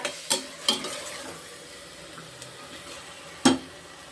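Green peas sautéing in a pan for pea rice, a soft steady sizzle under a few sharp scrapes and clinks of a stirring spoon against the pan, close and fairly quiet, with no talking.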